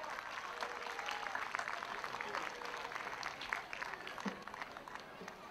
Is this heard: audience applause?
yes